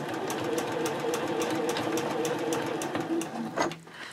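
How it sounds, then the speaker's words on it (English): A sewing machine sews straight across while making a mini backpack card holder, a continuous close mechanical hum with rapid ticking that falters and stops near the end. "I'm going to pivot and just sew straight across"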